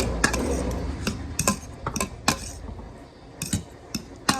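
Pancit canton noodles being stirred in a pan, with utensils clicking and scraping against the metal in irregular close taps over a low, steady background.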